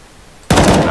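A sharp burst of gunfire in Counter-Strike: Global Offensive, a short rapid string of loud shots beginning abruptly halfway through after near silence.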